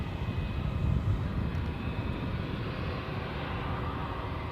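An airliner on final approach at Edinburgh airport gives a faint, distant engine rumble that swells slightly and then holds steady, with no voices.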